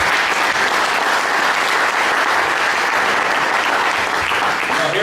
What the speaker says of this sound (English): let's give a big round of applause to Coach Harold Nichols.